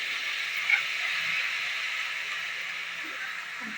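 Washed, chopped spinach steams in a dry pan with no oil, giving a steady close hiss that continues evenly, with faint soft rustles now and then.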